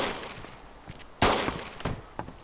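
SKS rifle shots in the video game DayZ: a few sharp cracks spaced irregularly, the first loudest, over quiet background ambience.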